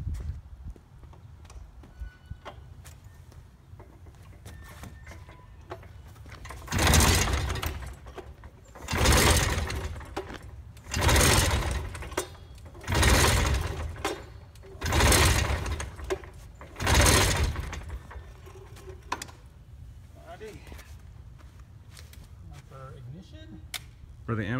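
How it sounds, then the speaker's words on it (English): Small engine on a Skyhopper aircraft being pull-started about six times to prime it without firing; six loud, separate whirring bursts each last a second or two, with quiet gaps between and faint talk in the background. "I'm gonna give it about 6 pulls to prime it"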